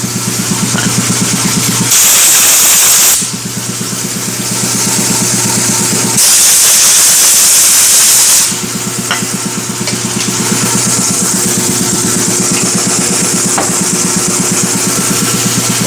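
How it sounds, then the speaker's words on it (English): Aerosol brake cleaner sprayed onto a slewing cylinder and clevis on a Schwing SP 305 concrete pump, two loud hissing bursts of a few seconds each over a steady engine hum. "we're going to clean that with some brake clean"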